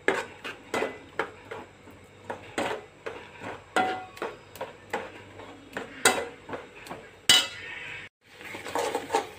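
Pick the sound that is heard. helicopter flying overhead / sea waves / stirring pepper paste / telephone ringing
stirring pepper paste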